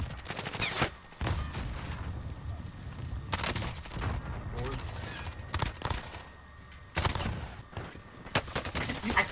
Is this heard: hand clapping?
no